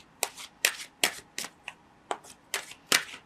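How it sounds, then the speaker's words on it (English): Tarot cards are drawn one at a time from a deck during a reading, giving eight or so crisp, close papery snaps and slides at a steady, unhurried pace, with near silence between them. "Let's draw 3 more cards in regards to the choices ahead of you."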